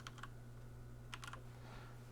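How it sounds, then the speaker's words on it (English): Computer keyboard keys clicking in a few quick clusters of keystrokes, quiet against a steady electrical hum, with no talking. "I'm just going to start typing average"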